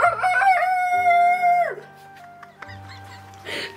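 A woman imitates a rooster's crow with her voice, a loud rising and falling cock-a-doodle-doo in the opening second and a half, followed by quieter room sound and a short breathy noise at the end.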